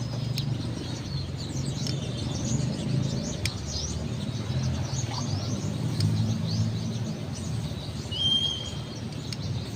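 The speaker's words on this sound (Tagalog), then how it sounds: "Ganda, ang daming ibon." Many birds chirp and tweet in scattered short calls over a steady outdoor ambience at a medical center in Dumaguete City, with occasional cooing and a low background rumble.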